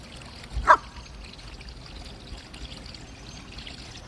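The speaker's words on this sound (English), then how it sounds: "And now we're ready to drain both tanks." Water drains from the gray and black tanks of an RV after sanitizing, a steady faint pouring and trickling stream with one brief louder splash near the start.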